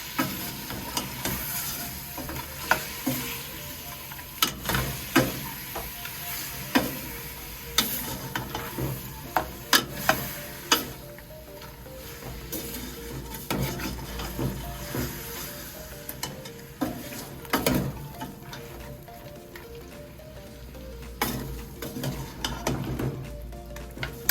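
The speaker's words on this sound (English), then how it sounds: "So I'm just going to give this a good stir." Jamaican style curry turkey necks stirred in a sizzling pot, the spoon scraping and knocking in irregular strokes over a constant frying hiss, close and moderately loud.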